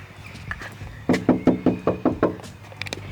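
A series of seven quick, firm knocks lands on a wooden door in a steady rhythm, close by, after a softer tap or two.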